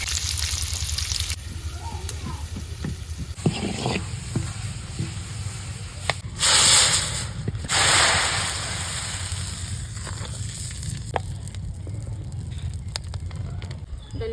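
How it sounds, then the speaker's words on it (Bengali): Onion and garlic tempering in hot oil in a village kitchen, a loud burst of sizzling and frying hiss that swells, then settles into steady crackling under background clatter. "আমি বাগার দেব বাগার দিয়ে শাক দেব পেঁয়াজ রসুন দিয়ে"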